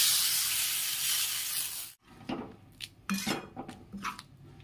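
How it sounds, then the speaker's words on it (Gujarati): A dal makhani tempering of hot oil with red chilli sizzles loudly and steadily, cuts off abruptly, then gives way to close metallic clinks and clatter of utensils against the pot. "એક પછી વઘાર કરી"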